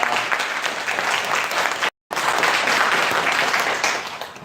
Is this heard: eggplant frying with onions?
no